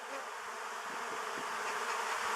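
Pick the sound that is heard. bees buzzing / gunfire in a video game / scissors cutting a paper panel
bees buzzing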